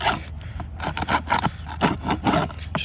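A 5-in-1 tool scrapes peeling paint off wood in short, rough, rasping strokes, close and loud, roughly seven or eight passes in a steady rhythm.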